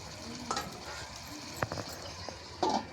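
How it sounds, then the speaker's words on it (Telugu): Chicken feet frying in oil in a covered pan for a chicken feet curry, a low steady sizzle punctuated by a few sharp clinks and knocks of utensils, close and fairly quiet. "ఈ కాళ్ళు మాత్రం నూనెలో చాలా సేపు గోలాలి ఈ పోపులో గోలాలి"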